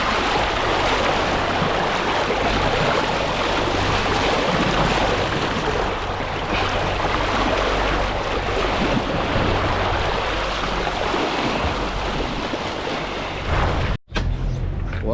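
A bluefin tuna fishing boat motors away on the ocean about two miles off the beach. A low engine drone sits under a constant rush of wind and waves, then cuts off abruptly near the end.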